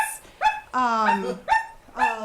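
A voice imitates a puppy dog barking, a series of short, high yapping barks with a longer whining yelp in the middle, close and loud during an improv comedy scene.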